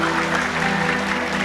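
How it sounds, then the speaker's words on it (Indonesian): An auditorium audience claps briefly after a lecture, a dense patter of hands filling the room at moderate level, with a steady low hum underneath. "Ya, boleh tepuk tangan."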